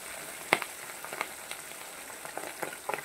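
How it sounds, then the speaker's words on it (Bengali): Pabda fish coated in turmeric and salt frying in hot oil, a fairly quiet, even sizzle with scattered sharp crackles and spits popping up close by. "এবারে দেখো যে হলুদ লবণ মাখা মাছগুলো এবার তেলে দিয়ে দিলাম।"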